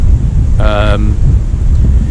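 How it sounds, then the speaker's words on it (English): Steady low rumbling wind at an outdoor campsite buffets the microphone throughout, with a brief tonal hum rising above it partway through. "Yeah, it's still quite windy."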